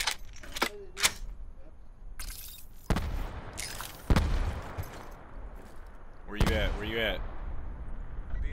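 Gunfire in a battle royale video game, several sharp broadband shots spaced across the span with a fast burst near the end, over low game ambience and intermittent voice chat.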